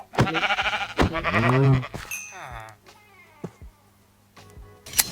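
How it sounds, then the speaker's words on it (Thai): Sheep on a Minecraft sheep farm give a few loud, close bleats in a row near the start. A voice talks over and between them. "ผมคิดว่าอนาคตเราจะต้องขยายฟาร์มแกะนะเพราะผมตัดยากมากเลย"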